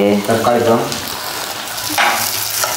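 Loud crackling sizzle of spices hitting hot oil for tempering, with a voice talking briefly over it at the start.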